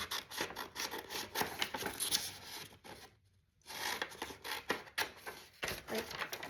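Scissors snipping through paper to cut out a triangle, with rapid, close rustling cuts, a brief pause partway through, then more quick snips, with no talking.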